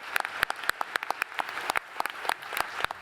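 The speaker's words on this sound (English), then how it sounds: "So give yourselves a round of applause." Audience applause at a university State of the University address, a crowd clapping with distinct sharp individual claps over a steady wash of clapping.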